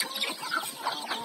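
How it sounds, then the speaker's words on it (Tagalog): Chickens cluck softly at a rural province home, a brief run of close, fairly faint clucks with no talking. "Ang dami lang manok"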